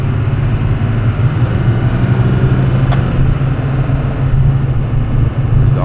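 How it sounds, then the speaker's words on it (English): A big blue GMC truck's engine rumbles steadily through straight-piped exhaust with no muffler or catalytic converter, a loud, continuous low burble throughout with no voices. "I straight piped the exhaust, so it's not catalyzed and it's not muffled."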